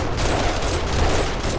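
An MP5 turret fires a rapid, continuous automatic burst in the survival game 7 Days to Die, loud and close, the shots blurring into a dense fusillade throughout.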